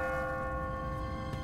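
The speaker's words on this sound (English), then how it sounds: "What kind of church bell goes off at 20 past the hour?" An automatic church bell in The Walking Dead video game rings with a sustained, resonant tone that hangs in the air, heard alone.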